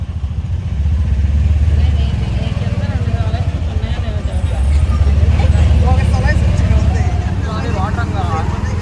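A small auto rickshaw engine putters loudly and continuously from inside the vehicle on a rainy day, with traffic noise around and voices speaking over it.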